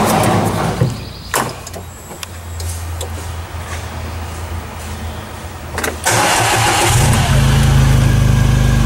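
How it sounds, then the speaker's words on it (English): A Gator utility vehicle with a 57-horsepower Chinese engine cranks over in brief bursts, then catches and starts up, settling into a loud, steady running rumble close by. "The amazing sound of a 57 horse Chinese engine."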